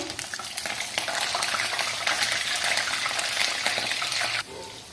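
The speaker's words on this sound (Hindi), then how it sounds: "गोभी को मैंने ऑयल में डाल दिया और बड़ी अच्छी से ये फ्राई हो रही है" Cauliflower florets sizzle steadily in hot oil for aloo gobhi, a dense, close frying hiss that holds loud and even before dropping away abruptly near the end.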